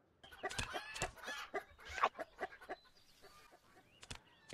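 Chickens cluck in a VR pecking game where the player uses a chicken beak to peck at feed, quick clucks and short calls over soft game sounds.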